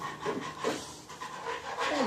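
A dog pants in short, steady breaths close by in a workshop during engine disassembly, with faint rustling around it.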